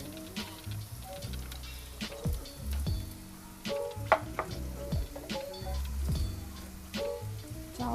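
Dry fruits are mixed into zarda sweet rice in a hot pan, with a soft sizzle under repeated stirring and light spoon taps, close and fairly quiet.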